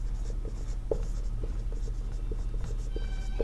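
Pen writing a formula on paper, close dry scratches and taps in a quick uneven rhythm over a low steady hum, with no talking.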